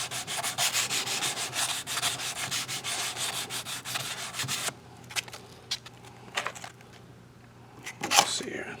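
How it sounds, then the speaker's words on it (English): Sandpaper rubbing briskly over a carved wax ring in rapid back-and-forth strokes, steady and close for several seconds, then stopping for a few isolated scuffs and a sharper final rub. "you can do this with all your grits of sandpaper to speed up this process quite a bit"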